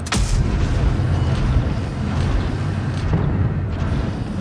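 Tank cannon fire in the online tank game World of Tanks Blitz, heard as a dense, booming rumble with a sharp blast near the start, loud and continuous under game noise, with no talk.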